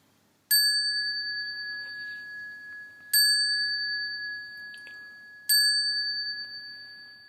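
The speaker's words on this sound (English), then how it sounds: "I start by ringing the bell to signal the start of the beginning of this" A meditation bell rung to open a meditation session, struck three times, each bright metallic strike ringing out clearly and fading slowly into quiet before the next, with no talking.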